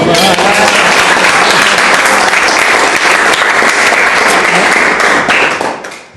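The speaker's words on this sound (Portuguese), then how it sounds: "E eu acho que eles merecem umas palmas" Close, loud applause from a group gathered for a talk on spirituality and spiritual care, thick rapid clapping sustained for several seconds before tapering off quickly at the end.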